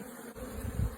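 Bees buzzing inside an opened hive with brood sections exposed, a dense, steady hum close by, with a low rustle rising near the end.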